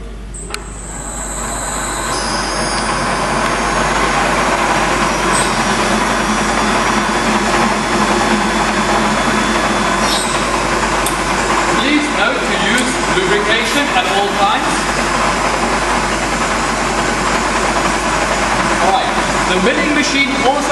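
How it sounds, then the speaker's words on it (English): A short, stout stub drill on a heavy machine in a training workshop runs at 1000 RPM, a steady loud mechanical drone that holds for about twenty seconds while a voice talks over it. "It's a very short, stub, strong drill. This normally runs at a very high RPM and can easily be set to more than 1000 RPM."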